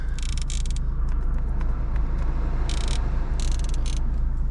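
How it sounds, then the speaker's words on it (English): Clicking and scraping of the adjustable AC vents inside a 2025 Honda Civic Si, short bursts of plastic rattling in two clusters over a steady low cabin rumble. "So you got your AC vents. It makes some pretty cool noises"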